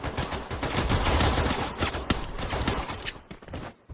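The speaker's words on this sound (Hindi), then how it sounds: "एकदम क्लोज से काफी सारे शॉट्स भी मिस करते हुए नजर आए कार98 आर्मी।" Rapid gunfire in a battle royale video game match, dense bursts of close-range shots crackling loudly in quick succession before cutting off near the end.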